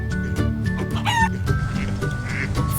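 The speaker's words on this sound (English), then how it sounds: "2 roosters," A farm animal toy makes a rooster call, with clucking and a crowing cry over background music.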